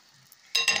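Moroccan maakouda fritters dropped into hot oil, with a sudden close sizzle bursting up after a quiet moment and continuing steadily to the end.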